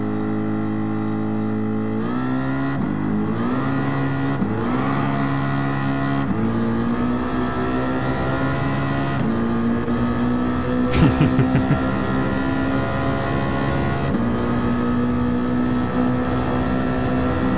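The engine of a 2016 Shelby GT350 in Gran Turismo 7 roars at racing speed, loud and sustained, with pitch rising and dropping abruptly through repeated gear shifts, joined by a brief crackling burst midway.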